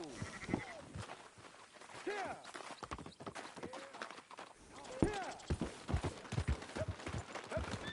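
Sheep bleat repeatedly in wavering calls in a video game, amid a busy mix of hoof clatter and other farmyard noise, with several animals sounding close by.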